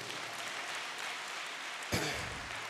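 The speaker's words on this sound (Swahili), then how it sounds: "Pigia Yesu makofi tena." Congregation applauding in a Swahili church service, a steady wash of many hands clapping together with a louder swell near the end.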